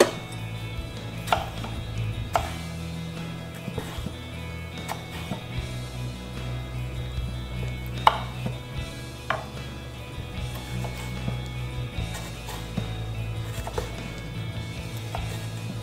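A knife cuts a tomato into small strips for tacos on a cutting board, with sparse, irregular crisp chops over a steady low background hum.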